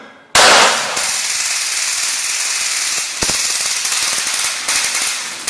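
A less-lethal gun fires shots to stop an attacker, with a sharp loud blast at the start, then a rapid rattling string of close, harsh cracks and a second distinct shot partway through, with no voices.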